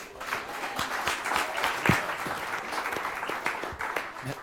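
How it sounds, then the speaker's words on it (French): Audience applause at a startup demo day at Numa in Paris, a steady patter of many hands clapping for several seconds, moderately loud, with no talk over it. "Merci de l'applaudir également."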